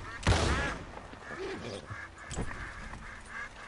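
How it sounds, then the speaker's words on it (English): Ducks quacking in the Red Dead Redemption 2 video game, with a loud sharp burst near the start and scattered quacks and honks at moderate distance. A voice may be faintly present. "is there a bunch of ducks right there?"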